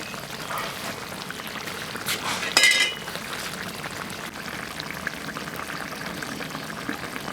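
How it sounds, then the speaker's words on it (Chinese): Braised fish sauce bubbling and reducing over high heat after chili is added, a steady close simmering hiss with a brief louder splash or clatter partway through. "我现在呢是把那个辣椒下进去，大火收汁"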